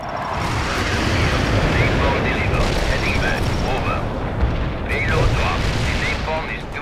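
Artillery strike impacts in the war strategy game World in Conflict: a dense, continuous barrage of deep booms and rumbling blasts that roll on without pause, with faint voices mixed in.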